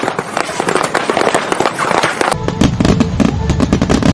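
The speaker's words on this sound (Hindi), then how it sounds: "मूवीज में जो आप पटाखों की आवाजें सुनते हैं वो कुछ इस तरीके से रिकॉर्ड किया जाता है।" Firecrackers recorded as a film sound effect crackle in a loud, dense burst of rapid sharp pops, close and unbroken, with a heavier crackling stretch toward the end.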